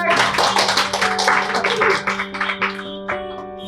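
A room full of people claps in a round of applause at a classroom IC reballing competition, the dense, steady clapping running the whole time over a faint electrical hum, close and fairly loud.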